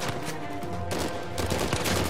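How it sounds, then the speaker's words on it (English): Burst-fire gunfire in Uncharted 4, dense rapid rattling shots in quick successive bursts, loud and continuous across the short span. "Probably burst fire."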